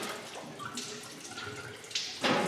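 Antifreeze draining from a loosened water pump hose on a 1965 Impala SS with a 283 small-block, a close trickling, splashing flow with irregular drips and a louder gush near the end, no talk.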